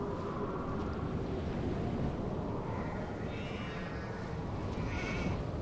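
Sheep bleating far off across a dark outdoor scene in a Nancy Drew mystery game, faint wavering calls sitting under a steady wind-like ambient bed, with no voices.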